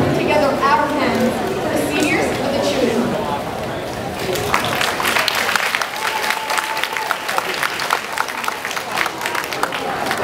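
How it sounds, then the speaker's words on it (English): Audience applause for a cheerleading performance at a graduation ceremony, dense clapping building after a spoken introduction and continuing to the end amid crowd chatter. "So now let's put together our hands."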